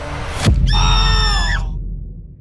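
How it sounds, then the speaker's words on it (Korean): A startled scream rings out by the sea as a prank is sprung on a young couple, one high wavering cry rising sharply after a brief thump and fading out alone. "놀란 비명이 바다 위로 퍼졌고"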